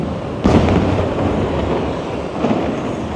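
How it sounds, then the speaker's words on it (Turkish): Fireworks go off at a beach, with a sharp blast followed by a rumbling, crackling wash and a second smaller burst, heard at moderate distance over steady outdoor background noise. "biri bayağı bir hava fişek patlatıyorlar sahil kenarında"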